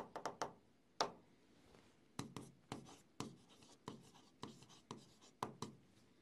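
Writing on a board: a series of quiet, sharp taps and short scratchy strokes in an irregular rhythm, close by, with faint gaps between strokes.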